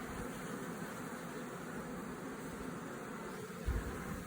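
Honeybees swarm around a hive frame during queen transfer, a dense, steady buzz of many wings filling the air continuously and close by, with no talking.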